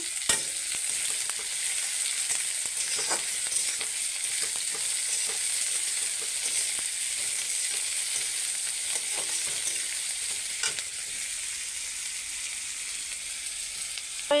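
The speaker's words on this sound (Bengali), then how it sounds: "চান পিঁয়াজ এখানে বেশি ভাজ দেন না, তো হালকা ভাজমু।" Onions and green chillies frying in hot oil, a dense continuous sizzle and crackle with scattered sharp pops and light stirring taps, close and steady throughout with no talking.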